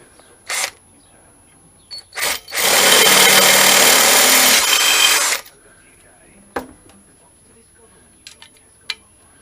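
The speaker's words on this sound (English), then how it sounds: "Right, let's get a bigger drill." A power drill whirs loudly for about three seconds, framed by a few sharp clicks and knocks before and after.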